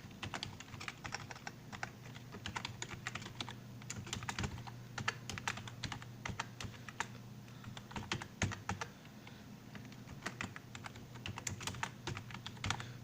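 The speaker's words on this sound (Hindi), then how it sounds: "यहाँ पे नेम टाइप कर लेता हूँ।" Fast, irregular key clatter from a computer keyboard while someone types a name into an Excel sheet, with continuous clicks in short bursts at moderate distance over a low steady hum.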